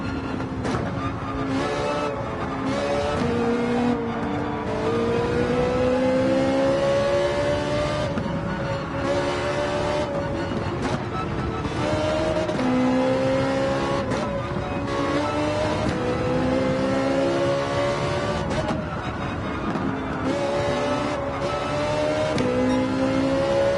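Ferrari and BMW race cars in Gran Turismo 7 accelerate steadily, engines revving through rising and falling gear sweeps, loud and continuous with overlapping cars and no talk.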